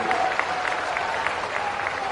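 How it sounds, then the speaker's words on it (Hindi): A large crowd at a BJP political rally in Gwalior applauds in a steady, dense roar of clapping, with voices faintly mixed in. "तालियां बजा के बोलिए"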